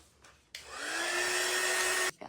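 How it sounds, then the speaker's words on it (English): A hair dryer blows on stencil paint on a can coozie, starting abruptly after a brief quiet moment and running as a loud, steady whooshing roar with a rising motor whine before cutting off sharply. "We can dry it up a little bit."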